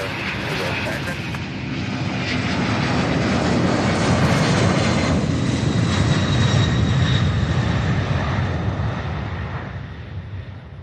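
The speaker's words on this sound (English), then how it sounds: "Beautiful takeoff, but that one wasn't as steep as most of them." A fixed-wing airliner takes off from Louisville SDF airport, its engines building into a loud, sustained roar that swells and stays heavy for the whole span before easing slightly at the end.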